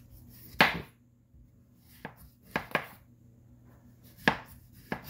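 A knife chops through apples on a cutting board with about six sharp, separate strikes spread unevenly over a quiet background, each one crisp and close.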